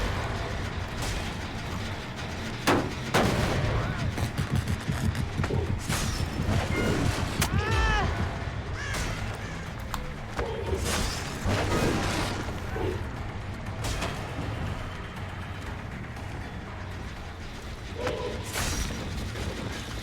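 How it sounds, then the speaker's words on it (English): A generator being blown up in the horror game Dead by Daylight, with booming, crackling bursts and mechanical clatter piling up into a dense, loud wash that swells and recedes over about twenty seconds. "They are exploding that generator like a mother"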